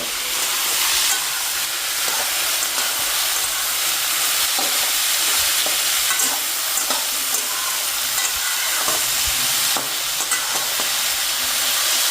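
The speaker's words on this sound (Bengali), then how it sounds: "পেঁয়াজ দিয়ে দিয়েছি, এবার ভালো করে নেড়ে নেব।" Onions frying in a pan while being stirred, a steady loud hissing sizzle throughout with frequent close scraping and clinking stirs, no voices.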